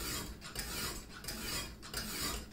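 A knife edge is reprofiled on a coarse 120-grit Lansky stone, giving faint, gritty scraping strokes in an even rhythm of roughly two per second. The scraping is quiet and close, with no talking.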